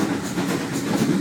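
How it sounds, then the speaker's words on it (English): A train runs on rails with a continuous rumbling roar and faint rhythmic clatter, heard from on board as it rides steadily along. "Train again."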